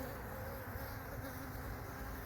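Honey bees buzz around apiary hives in spring, a soft continuous hum of many insects at close range, steady and fairly faint, with no pauses.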